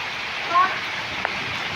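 Heavy rain floods a yard and gate, giving a dense, steady hiss close to the listener, broken only by a faint brief knock.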